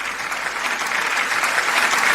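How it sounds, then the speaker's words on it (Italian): A studio audience at a radio show gives a short, loud, continuous round of applause welcoming back a guest artist. "riaccogliamo con un forte applauso Tonino Doro!"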